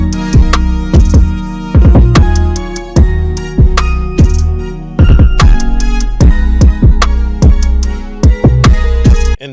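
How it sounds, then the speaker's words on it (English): A HypeSynth choir patch on an MPC Key 37 supplies sustained vocal-pad chords under a loud, busy beat of repeated kick and snare hits and layered synth parts, with no one talking. "This time I'll change up the plugin to HypeSynth, and I'm using O choirs from the choir section."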